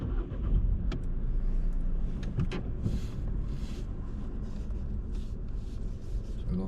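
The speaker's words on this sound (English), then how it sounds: "start the car for me, please." A car engine starts and runs during a driving test, a close, steady low rumble with a few brief clicks and knocks across the recording.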